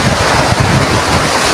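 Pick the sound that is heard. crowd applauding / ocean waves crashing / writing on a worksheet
ocean waves crashing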